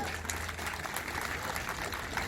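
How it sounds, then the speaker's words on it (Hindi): An audience applauds the Delhi Police band at a South Delhi Police cyber security awareness event, with dense clapping that runs evenly for a couple of seconds over a low hum. "बस जोरदार ताली हो जाए बैंड के लिए"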